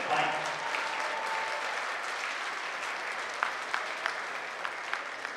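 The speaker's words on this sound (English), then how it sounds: "let's give a round of applause for this great action fight" Crowd applause at the 2019 Buffalo Golden Gloves amateur boxing tournament in an arena, sustained clapping from many hands at a moderate distance, with a few sharper claps standing out near the end.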